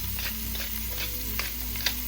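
A spoon stirs chicken rice porridge, arroz caldo, in a pot over a low simmering sizzle, with several soft scraping strokes against the pot spaced through the moment, no voices.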